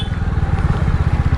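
A Royal Enfield Hunter 350 motorcycle engine runs close up with a rapid, even thumping pulse, loud and steady for a brief moment, with no talk over it.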